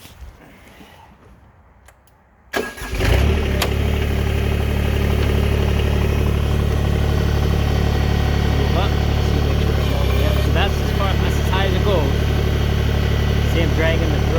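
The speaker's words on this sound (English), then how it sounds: "I'll fire up the tractor and I'll try to show it in action here." A Mahindra eMax 20S compact tractor's engine starts after a quiet moment and settles into a loud, steady close-up idle with a constant low hum and faint mechanical clatter.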